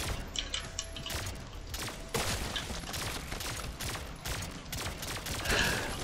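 Rapid bursts of gunfire from the fast-paced first-person shooter Turbo Overkill, dense and continuous with sharp repeated shots and mechanical clatter, loud throughout without speech.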